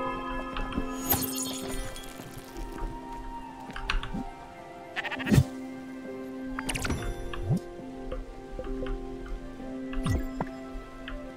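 Sheep bleating in the video game Spiritfarer, several short bleats spread over soft, layered game music.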